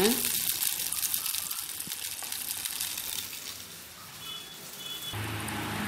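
Small balls of susyam dough made from idli batter fry in a pan of oil over a low flame, giving a steady close sizzle and bubbling throughout with no talk.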